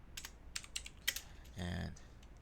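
Typing on a computer keyboard in a Windows command prompt, with a quick scatter of close, quiet key clicks followed by a short burst of faint, indistinct sound.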